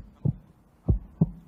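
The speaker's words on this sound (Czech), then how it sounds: "Tak poprosíme bušení srdce" Three soft, low thumps of a heartbeat sound effect, each a dull muffled pulse, spaced unevenly and heard alone against near silence at an awards event.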